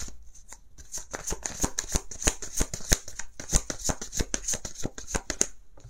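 Tarot cards are shuffled for a nine-card spread, making a close, rapid series of crisp riffles and soft slaps that continue for several seconds.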